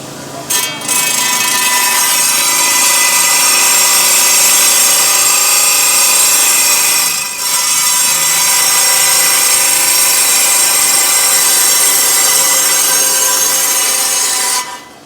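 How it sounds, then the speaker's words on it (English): A loud, steady grinding and rasping of a self-feeding rock saw cutting through stone runs continuously, with one brief dip midway and no talking. "they're all self-feed, so you put them in and it just cuts the rock for you"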